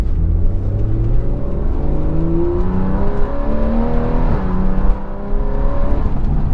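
A Porsche 911 engine pulls hard under acceleration from inside the moving car, loud and close, its pitch climbing through the gears with short dips at shifts before rising again.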